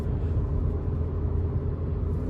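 A 2021 Acura ILX A-Spec with its 2.4-litre engine gives a deep, steady rumble from inside the cabin, holding continuous and loud without distinct peaks.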